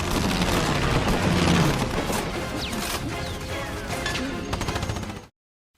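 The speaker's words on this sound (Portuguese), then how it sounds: "Danny, que barulho é esse? Vocês estão treinando tiro ao alvo?" Dense bursts of crackling gunfire and booms, loud and continuous like a battle, with no voices.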